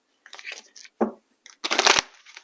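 An oracle card deck being shuffled by hand: several quick papery riffles and slaps in short bursts, close and crisp, with no talk over them.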